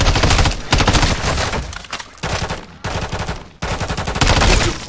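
Rapid automatic gunfire in the Call of Duty Modern Warfare 3 zombies mode, loud close bursts broken by brief pauses, several sustained volleys rattling in a dense, continuous stream.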